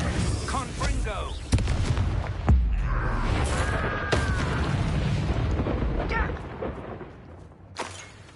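A Confringo spell explosion in Hogwarts Legacy, sharp booming blasts amid combat sounds, with a spoken incantation and voices over the noise.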